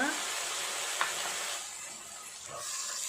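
Tomato paste frying in a pan for an Andhra-style curry, a soft continuous sizzle with a brief clink and stirring scrapes, close but fairly quiet.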